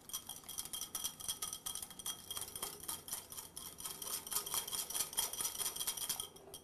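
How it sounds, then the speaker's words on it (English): A whisk beats melted mango sorbet into egg yolks in a bowl, giving a fast continuous metallic clicking and scraping rhythm, close but fairly quiet, with no talking. "I'm going to add the sorbet to my egg yolks, and with a whisk, make sure it's all incorporated"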